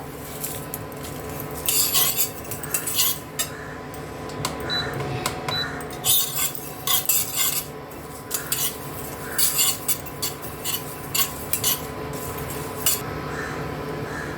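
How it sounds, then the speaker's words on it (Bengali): Dry chillies, cumin and poppy seeds roasting in a dry pan, heard as repeated scraping and stirring strokes with utensil clinks and faint crackle, steady and close with no voices. "দুটো কাঁচা শুকনো লঙ্কা নিয়েছি, একটুখানি হাফ চামচেরও কম জিরে নিয়েছি, আর এক চামচের একটু কম পোস্ত নিয়েছি। এটাকে আমি ভেজে নেবো শুকনো করে।"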